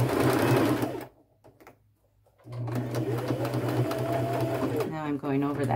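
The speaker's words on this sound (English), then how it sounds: "I'm using a fairly small straight stitch. And I'm just going to sew all the way around." A sewing machine runs a small straight stitch around a fabric and leather fringe bag, a steady close whirring that stops briefly and then resumes without a break.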